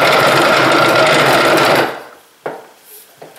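A bench vise rattling with loud dense chatter under tool work, a harsh continuous clattering that stops abruptly, followed by a couple of sharp knocks and quieter handling sounds.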